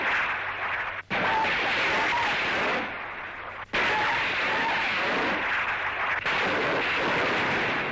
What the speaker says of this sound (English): Landing craft equipped with rocket launchers becomes a mighty warship.